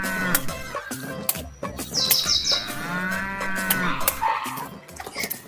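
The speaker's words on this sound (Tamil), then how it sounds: "அண்ணே இந்த மாடு யாருது?" A cow lows in a long, drawn-out moo, close and clear. Chickens cluck and a rooster sounds around it in a rural farmyard, with scattered knocks and rustles.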